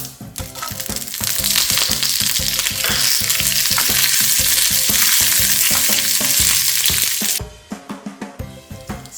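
Mustard seeds, curry leaves and dried chillies tempering in hot coconut oil for kurukku kalan, a loud continuous sizzle and crackle with scattered pops and stirring clatter, dying down to a few faint crackles near the end.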